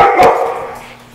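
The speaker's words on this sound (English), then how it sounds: "right next to us is Big Dog Camp. That's where all the barking is coming from." A single sharp dog bark rings out close by from a dog camp, followed by a brief fading echo.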